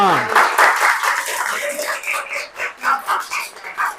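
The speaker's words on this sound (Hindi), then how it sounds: "सब लोग बच्चे तालियां" Children clap in an Arabic language class, a voice speaking first and then a run of quick, rhythmic hand claps that rise and fall close by.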